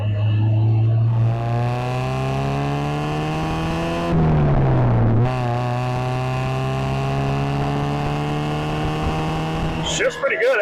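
Project car engine droning steadily under acceleration, revs briefly dipping and recovering during a gear shift, then holding a steady pitch with a clunk at the end, heard from inside the car.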